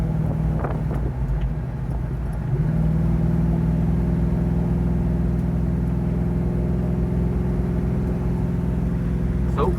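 A 1972 Buick Skylark Sun Coupe with a 396 big-block V8 and Turbo 400 transmission cruising, its steady low engine drone and road rumble continuous throughout, close and fairly loud, with a slight shift in tone early on.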